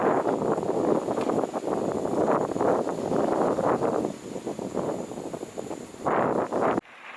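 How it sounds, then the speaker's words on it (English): Strong gusting wind roars across the microphone of a motorcycle riding on the highway at about 85 km/h on a brutally windy day, a dense rumbling rush that surges and dips, with a brief drop near the end. "It is brutally windy today."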